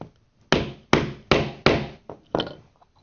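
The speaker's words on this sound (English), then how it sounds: "we're just going to hammer it with the mallet and roll down the post over" A mallet strikes a metal snap stud to roll the post over it when hand-setting a snap, six sharp, close, solid whacks at a steady uneven pace, each ringing briefly before quiet.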